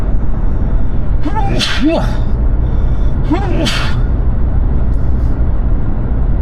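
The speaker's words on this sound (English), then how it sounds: "Got a sneeze coming on here." Two sharp sneezes a couple of seconds apart, each with a breathy wind-up, over a steady low rumble of a car driving on M-24 in Michigan.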